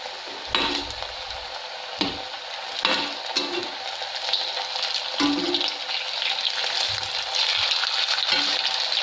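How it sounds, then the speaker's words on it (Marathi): Aloo tikki frying in a pan, a close, steady oil sizzle broken by several sharp knocks and scrapes as the patties are flipped with a spatula. "आता या टिक्क्या मी पलटून घेणार आहे।"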